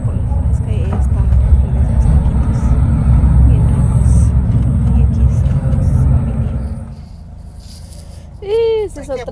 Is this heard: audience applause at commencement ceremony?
no